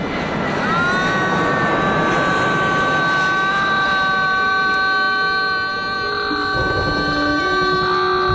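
A propeller aircraft drones steadily overhead, its engine a sustained tonal hum with faint shifting harmonics, loud and continuous throughout.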